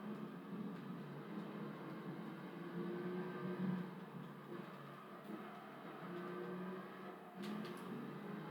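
A TVR Tuscan's engine in the racing game Gran Turismo 3: a faint, steady droning hum with slight swells in pitch, low in level and continuous, with no voices.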